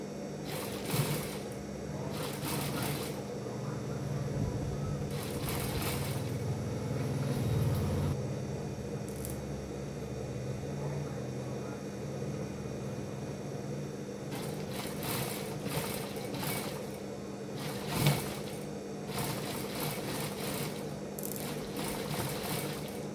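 Sewing machine running over an abaya seam with raglan sleeves, a steady mechanical hum with bursts of faster stitching that stop and restart across the span, moderately loud and close, with no talking.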